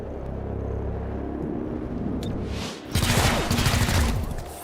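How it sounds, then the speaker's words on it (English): An aggressive turret opens up in XCOM: Chimera Squad: a low rumbling drone gives way to a loud rapid burst of automatic fire lasting over a second, heavy and close. "That is a very aggressive turret."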